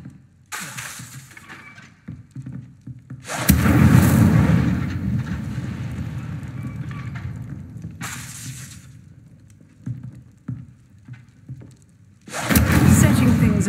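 Incendio fire spell cast in the video game Hogwarts Legacy: loud, roaring bursts of flame that whoosh up and crackle, recurring several times with quieter gaps and softer crackles between them.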